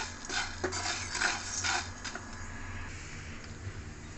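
Sago pearls frying in a pan are stirred with a utensil, giving soft clinks and scraping against the metal, busier at first and then settling into a quieter, faint rustle; no talking.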